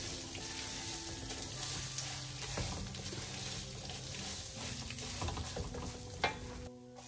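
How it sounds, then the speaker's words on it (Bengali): Rice stirred and cooked pulao-style in a home kitchen pot, with a steady soft sizzle and scraping stir strokes running throughout at low volume, no talk. "সবসময় আমি রাইসটা এইভাবেই রান্না করি, পোলার মতো করে একটু করে নেই"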